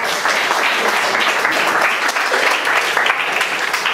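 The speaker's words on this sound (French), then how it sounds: "On peut applaudir Xav" Steady applause from a conference audience, dense and continuous clapping that holds at an even level for several seconds.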